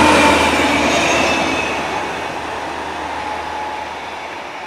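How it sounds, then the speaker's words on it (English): A West Midlands Railway train passes on a line in the Telford area, loud and close at first with a rumbling roar and metallic ringing, then steadily fading as it moves away, with no talking. "Here comes the next train"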